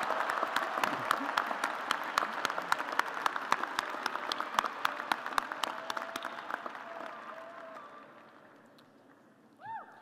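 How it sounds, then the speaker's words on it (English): Applause for graduating candidates at a Virginia Tech university commencement ceremony fills a large hall, with steady dense clapping from a big crowd that slowly thins and fades out toward the end. "Let us give a round of applause to those candidates from the College of Agriculture and Life Sciences."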